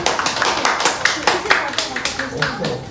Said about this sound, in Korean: 우리 박수를 한번 보내라고.